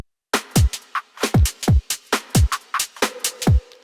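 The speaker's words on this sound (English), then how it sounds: "The drums on the drop sound a bit like this." A dry breakbeat drum pattern in a two-step groove, with punchy kicks, crisp snares and ticking hats repeating steadily and upfront, no voices.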